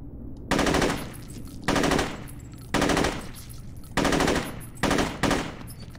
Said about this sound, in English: Oh, I was shooting the lamppost.